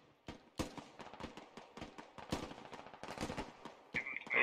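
Rapid rifle fire in the military shooter Squad, with bursts of sharp, distant-to-mid-range shots cracking in an irregular rhythm and a louder shot near the end, with no talk over it.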